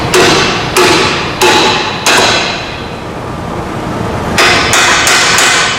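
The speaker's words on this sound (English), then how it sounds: "And then, take a big hammer." A big hammer strikes a bolt on a Pontiac G8 lower control arm, four loud metallic blows in steady rhythm, a short pause, then three quicker hits, close and ringing.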